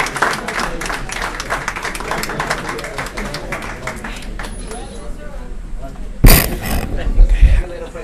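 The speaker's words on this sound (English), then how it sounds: "Let's give Heather another round of applause for a job well done" Applause at a city council meeting, a steady wash of many hands clapping through most of the stretch before fading, with a louder burst of nearby handling noise near the end.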